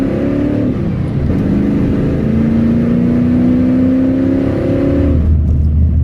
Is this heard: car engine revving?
yes